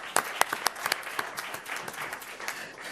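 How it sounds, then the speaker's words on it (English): A school board meeting audience gives a brief round of applause for a student: several distinct claps blending into moderate crowd clapping that tapers off over a few seconds. "Let's give her another round of applause"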